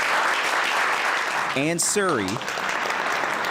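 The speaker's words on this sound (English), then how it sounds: "Applause in Ottawa" Applause from a crowd in Ottawa, a steady broad wash of clapping that carries through the whole moment while a voice speaks briefly over it partway through.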